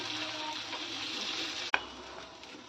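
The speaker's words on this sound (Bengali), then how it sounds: "ভালো করে তেল গরম করে বড়াগুলোকে ভেজে নিচ্ছি।" Matar dal (pea lentil) fritters fry in hot oil, giving a steady, even hiss throughout with one sharp click near the end.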